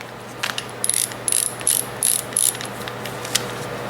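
A Cobalt ratchet tool clicks in quick bursts as it is worked back and forth, about five close, loud rattling runs of sharp ticks with short pauses between, no voices.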